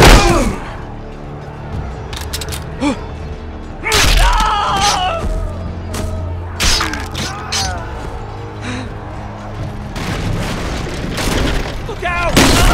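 Gunfire and booming impacts from a Game of Thrones video game battle, loud bursts and thuds at irregular intervals with shouting voices over a busy mix of mechanical clatter.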